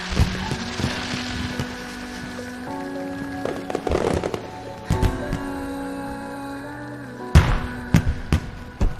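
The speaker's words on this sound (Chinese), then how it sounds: "快看烟花！" Fireworks burst in sharp cracks and bangs, scattered irregularly with a loud cluster near the end, over a busy hiss of crackling and a steady tonal background.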